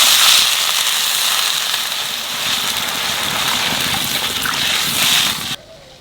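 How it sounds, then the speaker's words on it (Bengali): Water poured into a hot pan of fried potatoes bursts into a loud, dense hiss and crackle that holds steady close by, then cuts off abruptly near the end. "আলু ভাজা হয়ে গেছে, এখানে জল দিয়ে দেবো"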